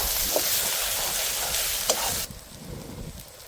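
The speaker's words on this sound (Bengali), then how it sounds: "দিয়ে দেবো অল্প পরিমাণ হলুদ গুঁড়া, মশলাটাকে আমরা মিশিয়ে নেব" A spice mix with turmeric sizzles and is stirred in a pan for Bengali village chicken curry, a loud hiss with scraping strokes that suddenly drops to a quieter simmer partway through, close up, no talking.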